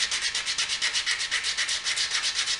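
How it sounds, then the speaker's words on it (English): Wooden handles being sanded by hand to strip off the brown bark, a steady rhythm of close back-and-forth rasping strokes, about five per second, with no talking. "We got it all sanded down real nice."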